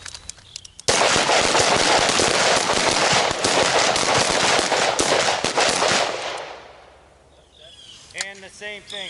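Close-range rifle or carbine fire during a training drill, rapid shots crackling in dense overlapping strings for several seconds, loud and near, then fading out as a voice starts speaking at the end.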